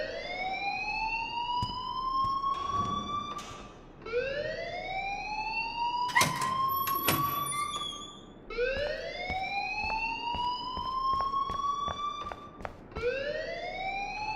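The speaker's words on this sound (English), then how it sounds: "please turn off that alarm since that's your job" An alarm in the video game Life is Strange rings as a series of loud rising electronic whoops, repeating about four times, with sharp clicks and clatter between them.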